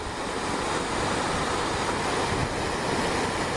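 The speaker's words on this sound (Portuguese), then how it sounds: "Olha a cachoeira aqui em Belo Oriente, próximo de Valadares, cachoeira da minha cidade." Broad, steady roar of a waterfall at Belo Oriente near Valadares on the Rio Doce, its water thick with mud from a burst dam, rushing continuously and loudly with no pauses.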